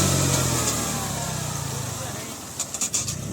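Tractor pulling a sugarcane earthing-up machine through a field, its engine droning steadily at mid pitch and fading slightly, with a few brief knocks near the end.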